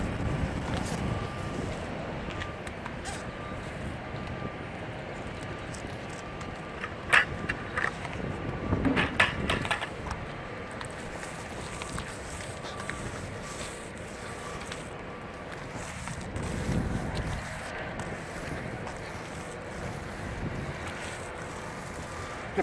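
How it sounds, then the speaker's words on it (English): Steady wind rushes and buffets across an open rooftop, a continuous broadband roar with occasional gusty swells, close to the microphone and with no other clear sound on top. "windy out here today"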